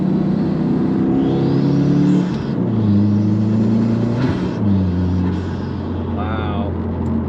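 Subaru WRX fitted with rear differential inserts accelerates from the cabin, its engine droning and climbing through gears with shift dips, while someone talks over the steady interior rumble.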